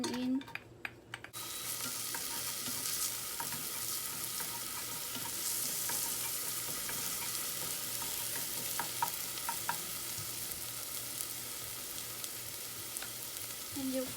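White scallions frying in a pan for Vietnamese crepes, a bright, steady hiss of hot oil that erupts after a few brief clatters and continues evenly and close.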